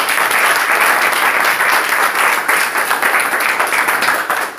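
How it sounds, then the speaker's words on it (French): Dense, loud applause from an audience, sustained evenly throughout with many hands clapping close together and no clear voices on top. "Applaudissez pour vous, maman"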